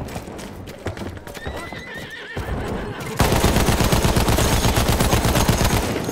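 Battlefield 1 gameplay: a horse neighs with a wavering whinny, then hooves clatter in a fast gallop rhythm, close and loud amid gunfire.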